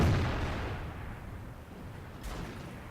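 A single tank cannon shot in World of Tanks, an opening boom that decays over a few seconds with a faint later crack, no talk over it.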